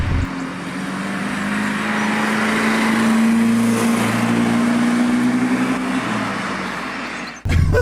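An MGB GT with a 95 horsepower engine pulls flat out at full throttle, a loud steady drone whose pitch climbs slowly as it accelerates, continuous and close, with road and wind noise mixed in.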